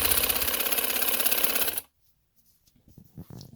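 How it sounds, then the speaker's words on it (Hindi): A sewing machine runs steadily while stitching the sleeve of a winter linen dress, a loud continuous whir that stops abruptly about halfway, followed by faint handling noises. "अब मैं इसको बाजू को सिलाई देने लगी हूँ"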